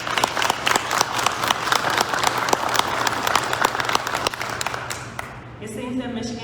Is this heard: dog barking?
no